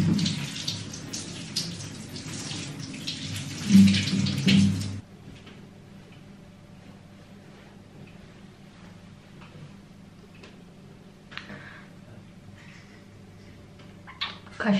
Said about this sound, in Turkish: En iyisi hemen yıkayayım.